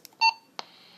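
A brief burst of warbling MDC-1200 electronic data tone from a Motorola CP200 radio keying up on a repeater, followed by a click and a steady faint hiss from the channel opening.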